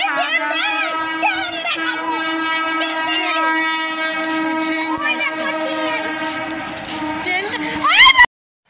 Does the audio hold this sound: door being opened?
no